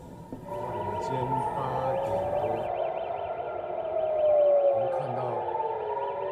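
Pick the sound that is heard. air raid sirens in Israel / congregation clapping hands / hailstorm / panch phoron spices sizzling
air raid sirens in Israel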